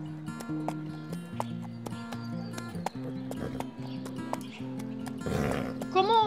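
Mare in the Star Stable Online game being loaded onto a truck, her hooves clopping in a steady rhythm over background music, ending with a short whinny.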